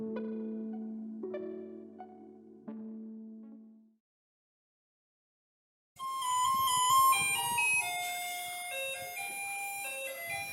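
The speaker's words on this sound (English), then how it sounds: "For those in Taiwan, you'd recognize that as a remix of the Garbage Truck song." A bright electronic remix of Taiwan's garbage truck song used as a show theme tune. Bouncy melodic synth notes come after a short tonal intro and a silent gap, playing loud and steady with no talk.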